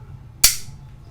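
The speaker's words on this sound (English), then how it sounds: "Pull the slide back and up, and the slide comes off." Slide of a Walther PPK pistol pulled back and lifted off during disassembly, a single sharp metallic snap that rings briefly in an otherwise quiet space.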